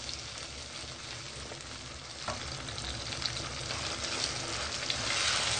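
Tomato paste and chicken fry in a pan for achar gosht, a steady dense sizzle that grows louder after a brief stir partway through, with no voices.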